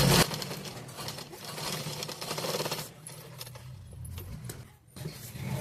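Sewing machine stitching patchwork on a blouse, with a close, steady mechanical whir and rapid needle clatter that runs in bursts with short pauses.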